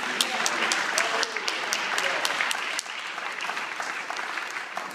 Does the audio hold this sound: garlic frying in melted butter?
no